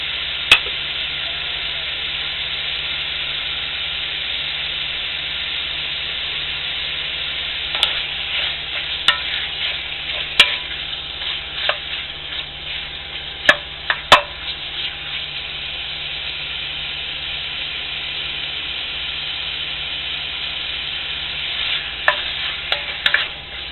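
Chuck-wagon-style Texas chili simmers and sizzles in a pot over a long cook, a steady bubbling hiss broken by occasional spoon knocks and scrapes from stirring.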